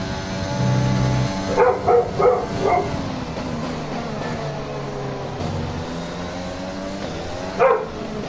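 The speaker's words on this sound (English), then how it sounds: "Sorry guys, that's my dog. If you can hear him in the background." A pet dog barks in a quick burst of about five yaps mid-distance, then one more bark later, over a steady engine-like drone in the background.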